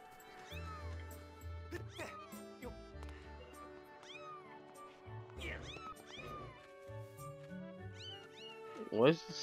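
A cat in The Legend of Zelda: Skyward Sword meows repeatedly in rising and falling cries, close and clear over game music, ending with a sharper yowl.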